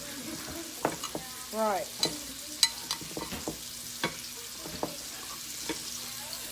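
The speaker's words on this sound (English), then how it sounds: "I'm almost finished frying these shrimp." Shrimp fry in a pan with a steady background sizzle, broken by scattered clinks and scrapes of stirring; a single brief spoken word is heard.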